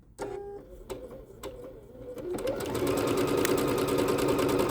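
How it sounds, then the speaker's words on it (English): Bernette B-77 sewing machine running stitch number 164, a few separate needle clicks at first, then a fast steady mechanical whir and rapid stitching, close and clear. "We are starting today's video with stitch number 164. Let's stitch."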